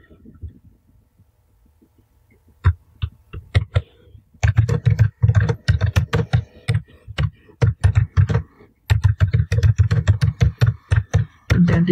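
Typing on a computer keyboard: rapid bursts of close, crisp key clicks in uneven rhythm, starting sparse and then running in dense stretches with brief pauses, no talk.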